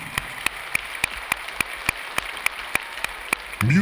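A group clapping aloud in a room, heard first person: a regular series of crisp, evenly spaced claps at a moderate tempo, ending in a brief louder rush of noise.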